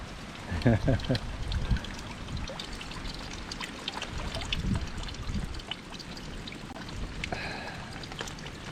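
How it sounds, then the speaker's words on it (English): Rainwater trickles and pours steadily into a collection bucket at an island survival shelter, a continuous close watery patter with a few heavier splashes, while someone speaks over it. "I'm getting a good amount of rain coming down"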